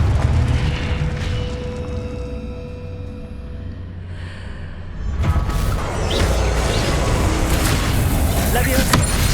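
A Confringo fire spell blasts in the video game Hogwarts Legacy, a loud booming explosion that swells into a sustained roar over busy game noise, with a voice speaking in the background.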